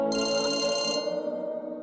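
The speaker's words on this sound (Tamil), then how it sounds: "அதான் விஸ்வா ஒன்ன வச்சு போன் பண்ண வைக்கிறான்ல" A mobile phone ringtone chimes loudly for about a second, then its tone lingers more softly, heard alone without any talk.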